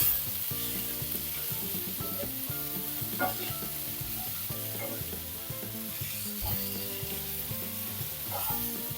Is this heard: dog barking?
no